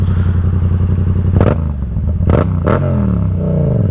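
Motorcycle engine revving as a rider passes alongside, its steady idle rumble broken by several sharp, loud throttle blips in quick succession, close by.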